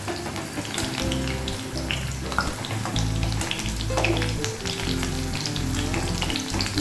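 Okra frying in hot oil, with a dense, continuous crackling sizzle and scattered pops, close up, along with a low background hum.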